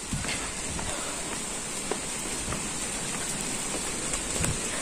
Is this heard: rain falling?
yes